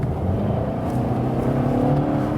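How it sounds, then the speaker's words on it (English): A 2.0-litre turbocharged Infiniti Q60 coupé accelerates in sport mode, giving a steady, loud engine drone heard from inside the car with no talking. "You see the reaction from this turbo engine"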